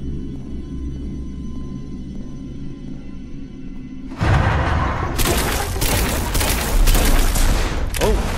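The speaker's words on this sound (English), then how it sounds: "I shoot him." Gunfire in the horror video game Homeless, a sudden burst of loud, dense shots that breaks in halfway through a low ambient hum and keeps going as rapid blasts until the end.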